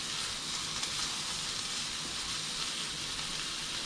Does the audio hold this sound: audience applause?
no